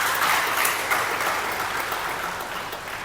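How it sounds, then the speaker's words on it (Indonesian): An audience claps steadily and densely at a send-off for umrah pilgrims at a hajj dormitory, a continuous loud applause that fades slightly toward the end. "Tepuk tangan."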